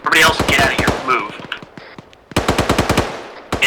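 Rapid automatic gunfire in the ArmA 3 SOG combat game: loud, close bursts of rattling shots in quick succession, with a short lull midway, under shouted talk.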